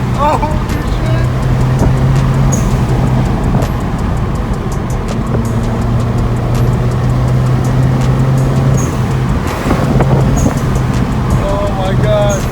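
A BMW N54 car with an aftermarket chargepipe and blow-off valve accelerating hard up a hill, a loud continuous engine roar heard from inside the cabin, with brief whooshing releases and excited talk over it.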